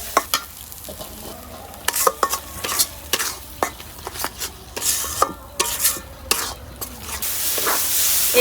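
Spiced masala paste with chilli powder and salt for a hot chicken curry being stirred and fried in a pan, a close broadband sizzle broken by repeated spoon scrapes and clatters against the metal in an uneven rhythm.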